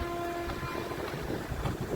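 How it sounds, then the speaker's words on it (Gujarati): A long train passes a level crossing where traffic waits, its horn sounding as a steady tone at first. Wheels and wagons then rumble past at a middling distance with no talk. "ટ્રેન આવી ગઈ છે, હમણાં ફાટક ખુલશે"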